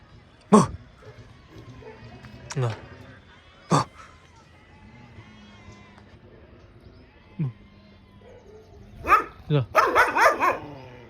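A dog barks sharply several times, spaced out at first, then a rapid burst of loud barks near the end, with people talking in between.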